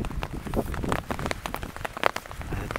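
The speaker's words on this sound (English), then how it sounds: "But with that wind, there's also rain." Rain patters steadily on a nearby surface, dense irregular drops tapping close with a soft hiss underneath.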